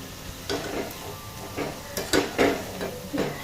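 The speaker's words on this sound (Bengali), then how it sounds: "ধনেপাতার বড়া অথবা করিয়েন্ডার পকোড়াটিকে ভালোভাবে নাড়িয়ে নেওয়া হচ্ছে ছান্তার মাধ্যমে" Coriander fritters frying in hot oil, a constant sizzle with a series of close, separate scrapes and bursts of hiss as a spatula turns and stirs them.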